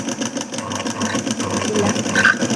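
A sewing machine runs a short stitch along a half-inch fold of blouse fabric, a rapid rhythmic mechanical chatter heard close for a couple of seconds without talk.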